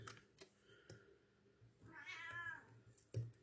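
A single drawn-out cat meow rises up close, surrounded by scattered soft taps and clicks.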